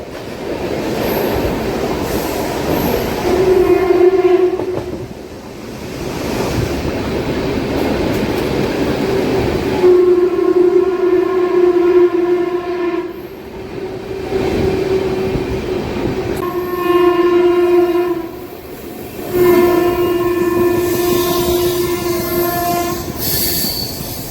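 Loud roar of the Chennai–Nizamuddin Duranto superfast express running at speed, heard up close, with long repeated horn blasts and squealing wheels over a constant rumbling drone.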